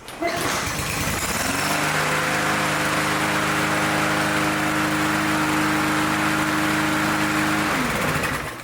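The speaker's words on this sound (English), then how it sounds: "So I'm going to go ahead and start it up and show you that this mower runs." Snapper lawn mower engine starts up and runs at a steady, loud drone with a constant hum, close by, then winds down near the end.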